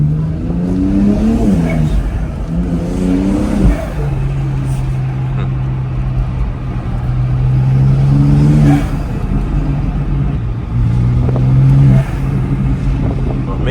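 Car engine fitted with an RK Tunes X3M front mount intake, loud and close, repeatedly revving up and settling back to a steady drone, with rising whooshing tones under the throttle blips.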